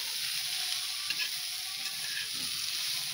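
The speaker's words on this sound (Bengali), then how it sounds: "ভালো করে একটু নাড়াচাড়া করে নেব।" Cauliflower samosa filling sizzling in a pan as it is stirred, a close, soft hiss with light scraping strokes and no talk.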